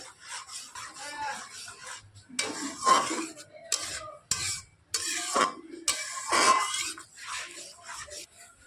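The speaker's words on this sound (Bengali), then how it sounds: "খুন্তি দিয়ে নাড়াচাড়া করা কিন্তু কোনোভাবে বন্ধ করা যাবে না" Metal spatula scraping and stirring thick ripe mango pulp in a pan on a gas flame while making mango leather, heard as repeated rough rasping strokes with brief pauses between them.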